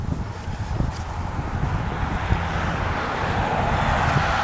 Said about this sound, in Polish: troszeczkę wieje, ale niedokuczliwie